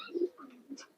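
A tournament-racing pigeon with a brown neck gives a short, soft coo of two or three quiet throaty notes, heard close and alone.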